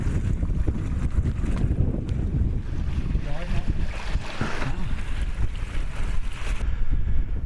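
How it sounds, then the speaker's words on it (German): Strong wind gusts across a high alpine trail on the Walker's Haute Route, a loud, continuous rumbling roar of wind hitting the microphone that surges and eases throughout. "hier ist ganz schön windig"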